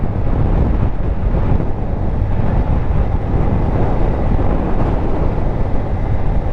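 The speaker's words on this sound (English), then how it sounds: "oh god, it's windy" Loud, steady wind roar buffeting the microphone while riding a motorcycle, a constant rushing blast with no pauses, like riding fast in open air.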